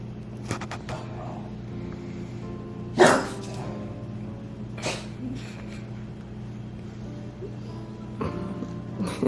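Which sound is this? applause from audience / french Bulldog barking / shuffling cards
french Bulldog barking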